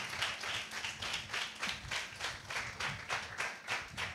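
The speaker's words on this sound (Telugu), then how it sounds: "చప్పట్లు కొట్టి దేవుని నామమున" A church congregation at a Sunday service claps hands together in a steady, even rhythm, about three claps per second, moderately loud and with no talking over it.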